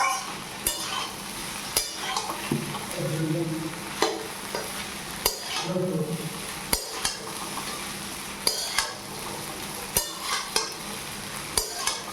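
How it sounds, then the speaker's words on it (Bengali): Chow mein fries in a pan with a steady sizzle, broken by repeated sharp scrapes and knocks of a spatula stirring the noodles, close and clear with no talking. "এই দেখো বন্ধুরা আমার চাউমিন ভাজা রেডি"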